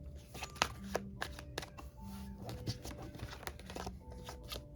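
Tarot cards shuffled and drawn from a deck, a run of soft riffling slaps and papery flicks in quick uneven bursts, close and moderately quiet, with a faint hum and tones in the background.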